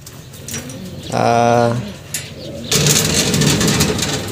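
Racing pigeons coo in a loft, a clear harmonic coo rising for about a second before a burst of mixed bird chatter and rustling, with a voice speaking nearby.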